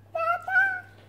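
A pet cat meows twice in quick succession, close and fairly loud, in a quiet room with a steady low hum underneath.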